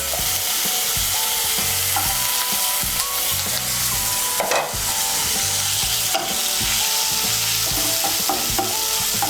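Grated coconut fries in a pan with chopped ginger and garlic for a Bengali chana dal tadka, giving a steady close sizzle broken by repeated scraping strokes of a spoon stirring, with no talking.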